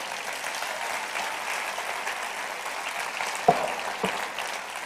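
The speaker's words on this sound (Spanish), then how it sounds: "Dale un aplauso al Rey." Steady, moderately distant clapping from a church congregation runs throughout, with a couple of louder isolated knocks near the end and no clear speech.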